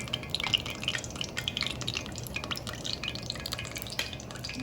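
Salmon patties frying in hot grease in a pan, with a steady close crackle and scattered sharp pops and spatters throughout, no talking.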